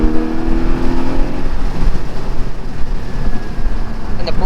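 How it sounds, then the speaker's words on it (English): Naturally aspirated engine of a Porsche 718 Spyder sounds loud and close, a steady droning rev with rising harmonic tones, from inside the car while it is driven. "Sounds amazing, that naturally aspirated motor."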